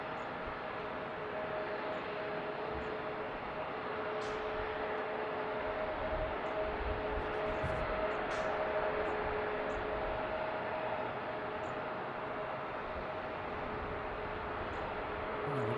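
An airliner arrives at Seattle airport with a steady, broad jet roar that holds level throughout, heard from a distance with a faint tonal whine and no voices.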